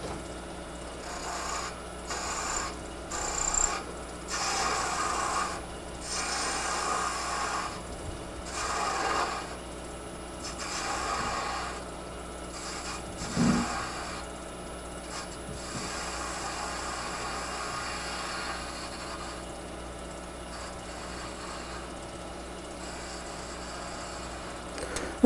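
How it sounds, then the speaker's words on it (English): Wood spinning on a lathe is cut with a shop-made high speed steel skew, giving soft rasping scrapes in intermittent bursts over a steady motor hum, close and moderate in level, no talking. "We'll just take a little bit of material off over here to make room."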